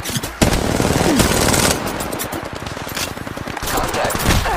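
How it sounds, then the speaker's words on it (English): Automatic weapon fire in Apex Legends Mobile, loud rapid bursts rattling almost continuously throughout, with a voice speaking underneath. "Opening fire on the enemy"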